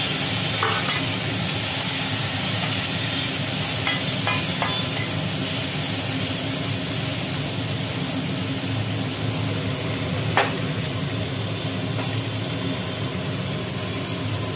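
Chopped tomatoes sizzle steadily in hot oil in a pan while being stirred, for a young jackfruit and prawn curry, with a constant close frying hiss and occasional scraping stirs throughout and no talking.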